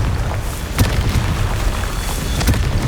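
Confringo blasting spell from Hogwarts Legacy going off in a loud, dense rumble, with sharp booming hits near the start and again toward the end over a continuous roar of game noise.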